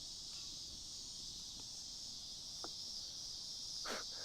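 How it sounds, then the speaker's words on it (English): Cicadas drone in a humid summer evening, a steady high, continuous buzz that fills the background with a few faint clicks and knocks underneath. "Those cicadas coming out."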